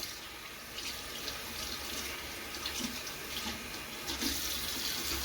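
Running tap water splashes steadily over a makeup brush case being washed out in a sink, a continuous near hiss with small surges and no talk.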